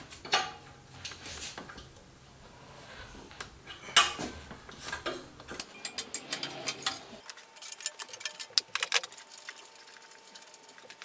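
A ratchet works loose the turbo bolts on a Subaru WRX STI, giving quick metallic clicks and small clinks in irregular bursts, close by and moderately quiet.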